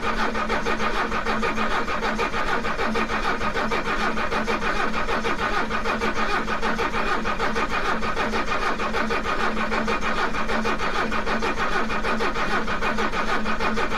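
An old Mercedes that sat in a garage for twenty years cranks steadily with WD-40 sprayed into its intake, a continuous loud, even churning of the starter that runs the whole time without the engine catching.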